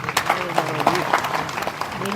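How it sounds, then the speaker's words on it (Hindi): An audience at a religious discourse gathering claps in a loud sustained burst, the applause mixed with a voice talking over it throughout. "जोरदार तालियों।"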